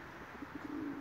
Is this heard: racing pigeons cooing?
yes